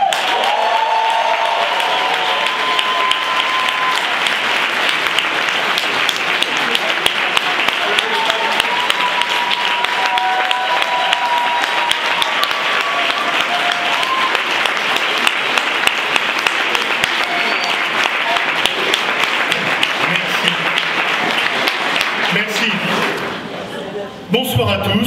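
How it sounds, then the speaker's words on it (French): Sustained standing ovation at a French graduation ceremony, dense clapping from a large audience holding steady and loud for over twenty seconds before tapering at the very end. "c'est une standing ovation pour Christine"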